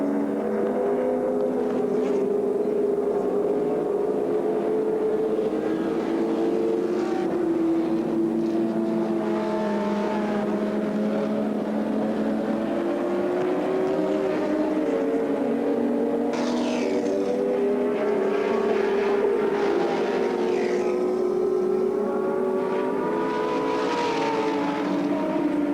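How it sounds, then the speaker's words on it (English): Touring race cars lapping Oran Park Raceway in 1984, their engines droning and shifting pitch as they pass, loud and continuous, with no break in the roar throughout. "Australian Touring Car title. Bob Morris in the lead"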